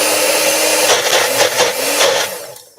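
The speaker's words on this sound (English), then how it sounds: "I am using my magic bullet." Magic Bullet blender whirring loudly as it purees hummus with roasted red peppers, its motor pitch wavering in short pulses before cutting off near the end.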